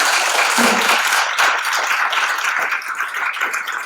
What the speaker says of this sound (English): Please give her an applause, Laura, please